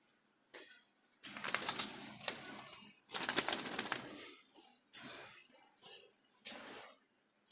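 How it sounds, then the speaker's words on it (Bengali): Selected Jalali pigeons, red-eyed birds held for sale, with bursts of wing flapping and scuffling close by, separated by short quiet gaps. "এগুলো হচ্ছে বাছাই করা কবুতর"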